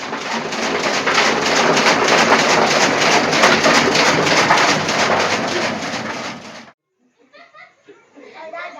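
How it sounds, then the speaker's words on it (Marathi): Loud, steady downpour roaring broadband for most of the clip, then cutting off abruptly, followed by faint scattered chirps. "जोरातच पाऊस आलाय"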